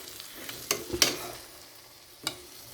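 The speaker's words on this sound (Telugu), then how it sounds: "మసాలా పట్టుకోవాలి పీసులకు. 1 నిమిషం 2 నిమిషాలు అలా కలిపేసి" Fish pieces coated in masala are stirred in a hot pan, giving a few distinct scraping strokes over a soft, steady sizzle, close by and moderately quiet with no talking.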